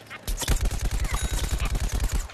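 Rapid automatic gunfire from the video game Plants vs Zombies Garden Warfare, a steady, even burst of close, loud shots repeating quickly for about two seconds after a brief quiet start.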